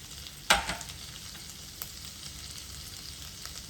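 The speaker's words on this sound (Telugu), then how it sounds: "కొంచెం ఆయిల్ వేసుకుందాం. ఇందులో మనం కొంచెం గార్లిక్ అయితే వేసుకుందామండి." Garlic hits hot oil with a sharp crackling burst, then settles into a steady, soft sizzle with faint stirring taps while shrimp is cooked, close up and without talk.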